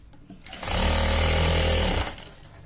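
A sewing machine stitching fabric runs in one steady, loud mechanical whir for about a second and a half, starting and stopping cleanly.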